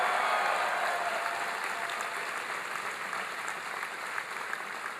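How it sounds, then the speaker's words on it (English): Steady, dense applause from a large audience at a health care town hall in Green Bay, filling the whole stretch at an even level with no voices rising above it. "Give him a big round of applause"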